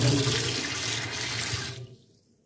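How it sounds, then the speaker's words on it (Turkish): Cold water runs hard from a sink tap into a basin, a close steady splashing rush that stops abruptly near the end, leaving quiet. "Daha sonra soğuk suyumuzu açalım."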